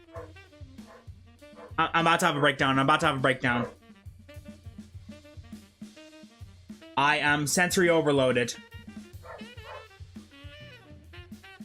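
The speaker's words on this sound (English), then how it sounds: "There is a rubbish truck and my dogs are fucking yelling at it." Several dogs bark and yelp in two loud, frantic bursts at a passing rubbish truck, with a person talking in the quieter stretches between and after the outbursts.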